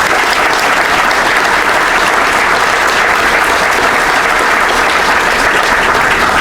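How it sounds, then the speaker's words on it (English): Loud, sustained applause from a large alumni reunion audience honoring honorary degree recipients, a dense continuous roar of clapping with no pause. "How about another round of applause for all of our honorary degree recipients?"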